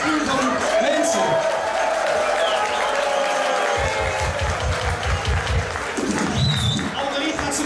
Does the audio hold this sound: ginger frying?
no